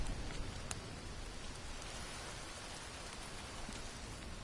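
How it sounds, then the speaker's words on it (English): Rain falls steadily in the jungle survival video game Green Hell, a soft, even hiss of drops on foliage with occasional sharper drip taps and no voices. "it looks like we'll catch some rain right there"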